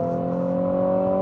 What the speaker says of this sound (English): Try a bit of a 0 to 60 on this backcountry road.